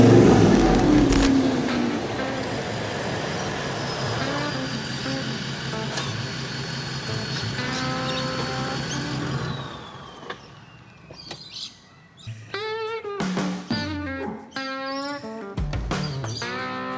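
Steady road traffic rumbles past at close range, a continuous wash of car and truck engine noise that thins out after about ten seconds into a lull, leaving scattered birdsong and brief chirps.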